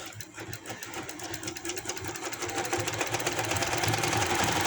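A sewing machine stitches palazzo pants in a quick, even mechanical whir with rapid needle ticking, steady and close, growing slightly louder as it runs.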